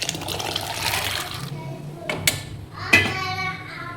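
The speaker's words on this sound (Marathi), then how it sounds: "इथे बघा फ्रेंड्स पाण्याला ना मस्त उकळी आली" Water boiling in a pot for salted peanuts gives a steady bubbling hiss that cuts off, then a couple of short splashes follow as peanuts are dropped in.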